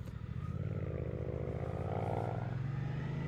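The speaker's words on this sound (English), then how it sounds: "So that was an example of the quick shift. It's kind of jerky" A 2024 Suzuki GSX-8R motorcycle runs steadily while riding, its engine holding a strong continuous note with a rising pitch and a brief change as the quick shifter snaps through a gear, with some clatter.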